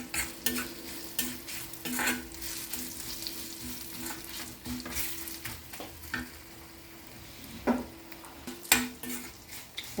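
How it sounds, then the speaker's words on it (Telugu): Tempering spices with asafoetida fry in a pan, a continuous sizzle punctuated by frequent metallic scrapes and clinks of a spoon stirring against the pan, close and distinct, with no voices. "పోపు వేగిపోయింది."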